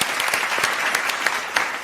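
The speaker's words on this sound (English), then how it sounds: "Ladies and gentlemen, a round of applause," Studio audience applause for a guest introduction on a talk show, a steady dense wash of clapping that carries evenly through the whole stretch with a few sharper claps standing out.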